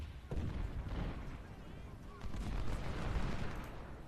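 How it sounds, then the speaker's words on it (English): Gunfire in the American Civil War strategy game Ultimate General: Civil War, a continuous rumble of low distant volleys and booms, steady and dense, with a louder swell in the second half. "We are firing on their cav."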